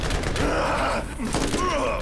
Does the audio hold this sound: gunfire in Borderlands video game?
yes